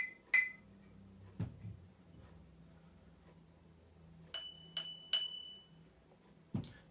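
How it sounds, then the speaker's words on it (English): Standard glass ship's decanter tapped several times, giving short clinks spaced apart with a couple of dull knocks between, close and fairly quiet in a still room. "so this is just a bog standard ship's decanter, so with glass, a very dull noise, and you can immediately hear the difference"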